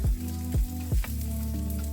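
Garlic sizzles in a pan with a soft, continuous crackle, joined by a few low thumps, and no talking.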